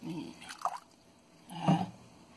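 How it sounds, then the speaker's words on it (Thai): Water poured into a coconut milk jelly mixture, two short wet splashing, dripping bursts close by, with a quiet pause between them. "ก็จะใส่น้ำลงไปนะคะตอนนี้นะคะ"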